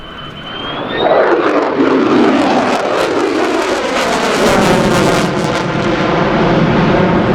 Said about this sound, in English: As F-35 comes in, it will be performing the tactical pitch.